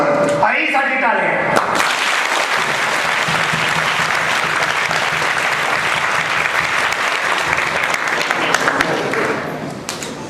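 A school prize distribution audience at a coaching class breaks into loud, sustained applause lasting about ten seconds, dense and close, tapering off at the end.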